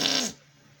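Short comedic fart sound effect from a Batman and Harley Quinn DVD, a single brief raspy burst that quickly fades away.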